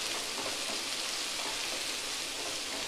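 Cabbage and capsicum are stir-fried on high flame for street-style fried rice, making a dense, even sizzling hiss that holds steady throughout, with nobody speaking.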